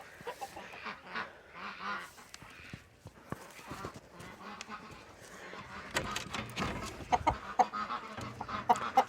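Chickens settle on the roost at evening on a small farm, low clucks and occasional honking, squawking calls rising close by in uneven bursts, with some rustling and movement among them.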